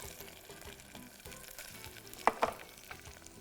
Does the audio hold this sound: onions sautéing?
yes